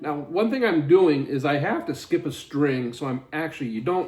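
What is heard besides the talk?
No everyday noises stand out.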